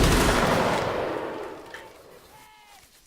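A musket volley in the Mount and Blade Napoleonic Wars game goes off as one loud, close burst, then rolls away into a fading echo over about three seconds.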